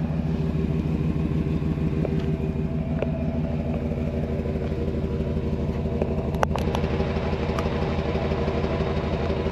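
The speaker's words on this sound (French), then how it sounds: "Et voilà ce que ça donne donc au niveau son, déjà au niveau échappement." A 1994 Chevrolet Silverado 2500 idling at the exhaust, a steady, even low rumble with a continuous pulsing beat throughout, heard close with no talking.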